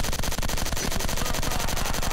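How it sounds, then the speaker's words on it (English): Rapid machine gun fire from a weapon in the video game Pain Train, a dense, steady stream of close, loud shots repeating evenly for about two seconds with no pauses. "What a horrible gun sound effect."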